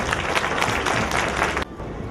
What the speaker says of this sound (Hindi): अब ये बच्चों की हिम्मत अफजाई तालियों के साथ करिए प्लीज